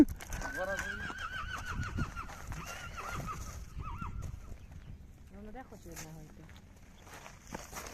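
A Percheron horse and its herd on a farm, with several whinnies and neighs and a slow clip-clop of hooves, the animals fairly close and mixed with people talking.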